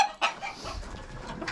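Roosters and bantam chickens cluck on a farm, a short burst of bird calls rising at the start and again at the end over a low murmur of farmyard background.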